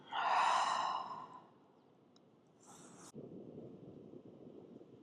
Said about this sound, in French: et une grande expiration